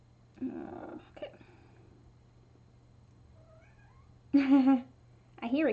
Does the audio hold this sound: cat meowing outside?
yes